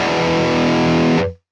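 Heavily distorted electric guitar through a Neural DSP Mesa Boogie Mark IIC+ amp emulation with a virtual AKG 414 microphone, a dense sustained chord ringing loud and alone before cutting off abruptly.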